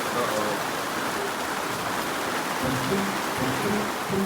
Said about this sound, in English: the winds are up and the rain is out